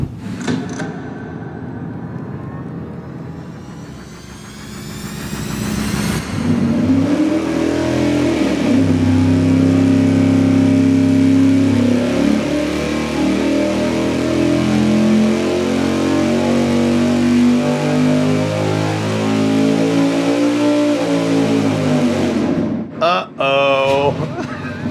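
A big-block engine with an Edelbrock Super Victor 2 intake manifold runs on a dyno. It starts with a rough idle, then rises into a loud, sustained full-throttle pull that holds for about fifteen seconds before dropping off sharply near the end.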